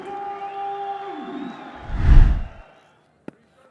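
Crowd noise at a cricket Test match in Rawalpindi swells into a short burst of cheering, loud and close, over a steady background murmur, then drops away, with one sharp knock near the end.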